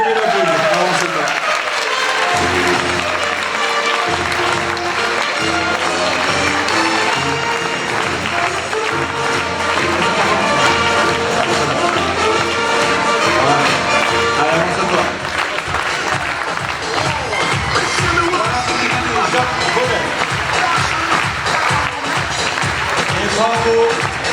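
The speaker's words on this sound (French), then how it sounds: "La mini-reine 2019, Jeanne Baudel. Vous pouvez l'applaudir." Crowd at a queen-of-the-festivities election in Hagetmau applauding the 2019 mini-queen, loud sustained clapping that swells with crowd noise and voices through most of the stretch.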